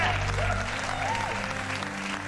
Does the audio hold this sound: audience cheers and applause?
yes